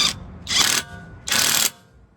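A WORKPROX impact gun set to setting 2 runs on a car in three short, sharp rattling bursts separated by brief pauses, close and loud.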